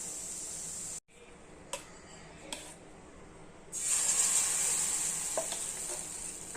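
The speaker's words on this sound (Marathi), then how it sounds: "गरम तवा ठेवायचा, तेव्हाच डोस्याचं बॅटर टाकायचं" Dosa batter sizzling on a hot tawa, a steady bright frying hiss that swells loud after a brief pause, with a few soft clicks and scrapes of the utensil over it and no talking.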